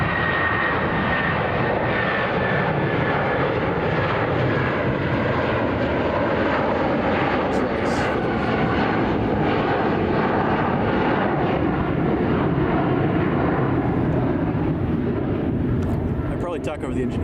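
Loud, steady aircraft engine roar at Chicago O'Hare International Airport near the Terminal 2 tower and ramp area, a continuous broadband rumble that fills the whole stretch while someone talks over it.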